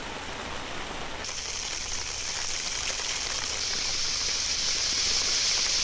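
A storm in the Sundarbans coastal area drives a dense, constant roar of rain that swells slightly louder as it goes, with no voices over it.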